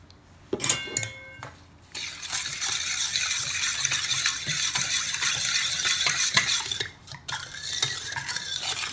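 A spoon stirs eggless French toast batter with vanilla extract and custard powder in a bowl, giving a few clinks, then a continuous, fairly loud swishing and scraping that pauses briefly near the end.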